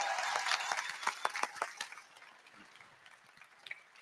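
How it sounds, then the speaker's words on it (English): Applause from an audience at Dublin Comic Con for a cast on stage, moderately loud scattered clapping that fades after about two seconds into quieter room noise with a few isolated claps. "massive round of applause for the cast of GTA"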